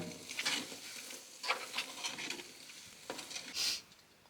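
Grits cook in a pot on a camp stove at a solitary winter campsite, giving off a soft sizzle broken by scraping stir strokes and light pot clinks at a quiet, close range.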